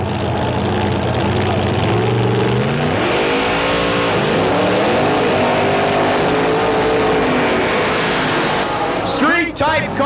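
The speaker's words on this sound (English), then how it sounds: "Street type cars with funny car motors" Drag racing street cars fitted with funny car motors rev and roar loudly at the track, a dense, sustained engine blare with pitch sweeps as the throttle rises and falls, continuous over the whole stretch.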